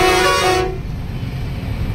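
A loud truck horn blares for just over half a second, then cuts off, leaving steady road and engine rumble from the moving truck on a highway run.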